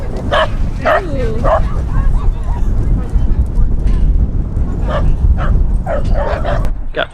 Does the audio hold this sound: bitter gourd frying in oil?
no